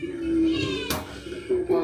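A cat meows in short tonal calls at close range, with a brief noisy burst in between and a person's voice nearby.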